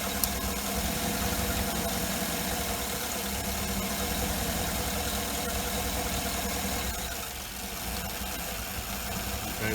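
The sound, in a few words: 2008 Escalade GM 6.2L engine idling rough, purge valve disconnected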